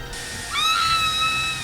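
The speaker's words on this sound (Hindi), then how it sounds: "इसके अंदर है हेयर ड्रायर की आवाज और वो चीख।" A recorded scream plays back from an iPod, with a hair dryer hissing underneath. The dryer's steady airy whoosh comes first, then a high, sustained cry joins it and holds loud to the end.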